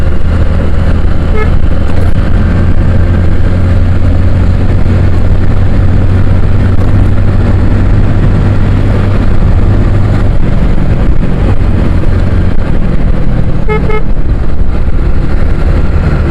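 Steady loud rumble of a car driving along a road, continuous engine and road noise throughout, with a faint horn toot near the start and end.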